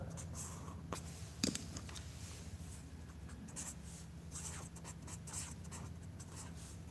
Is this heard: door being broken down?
no